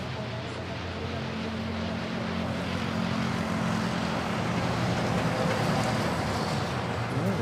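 Air Asia airliner rolling out after a short landing at Manila Airport, a steady broad engine roar heard at a distance that holds evenly throughout with no voices.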